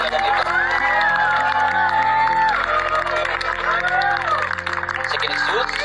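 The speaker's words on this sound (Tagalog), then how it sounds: "Let's give them a round of applause." Crowd cheering and applauding at a wedding celebration, a loud, dense roar of overlapping shouts and whoops with clapping underneath, sustained without a break.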